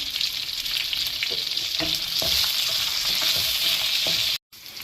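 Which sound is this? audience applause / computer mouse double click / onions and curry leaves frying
onions and curry leaves frying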